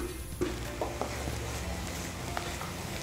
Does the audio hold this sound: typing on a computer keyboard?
no